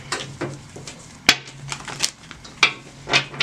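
A deck of tarot cards being shuffled, giving a string of sharp, close riffling snaps and soft pattering taps at irregular intervals, heard alone.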